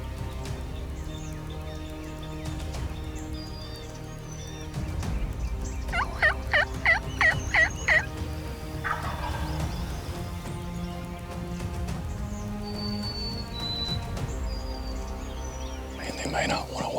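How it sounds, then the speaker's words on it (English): Several wild turkey gobblers gobble in a wooded area, a rapid rattling burst of calls standing out clearly for a couple of seconds amid soft whispering voices and faint background birdsong. "They're in the woods up there. Oh, yeah. You see him? Yeah. That's 3 gobblers."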